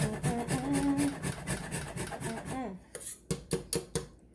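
Nutmeg rasped against a fine zester while golden milk is prepared, a steady scratchy grating that runs for a couple of seconds before breaking into a few short, sharp taps and scrapes close to the mic.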